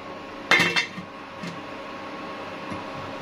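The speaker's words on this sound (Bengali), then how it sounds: "আমি এখন ঢেকে দিচ্ছি।" A lid set onto a cooking pot of mixed vegetables gives a sharp metallic clatter and a quick second clink, then quieter faint kitchen sounds, with no talking.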